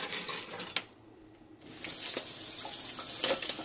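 Cold water poured into a self-heating instant hot pot, a close trickling pour from a tap or bottle with a short pause partway through, along with a few light clinks of container and packaging.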